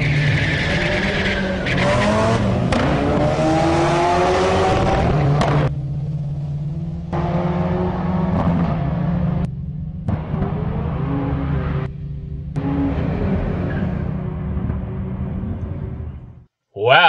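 Porsche 944 race cars, modified with coilovers, beefier sway bars and tubular control arms, roar past on a road course with engine drones and tire noise, loud and continuous, fading at the end.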